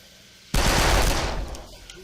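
A sudden, loud burst of gunfire from the video game shooter Darkest of Days erupts after a moment of quiet, then holds as a dense, crackling roar before slowly fading.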